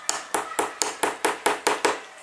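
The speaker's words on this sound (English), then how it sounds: "you could hammer in a nail just a short way like this" A hammer drives a nail a short way into wood with nine sharp, evenly spaced taps in quick rhythm, close and clear with no talk.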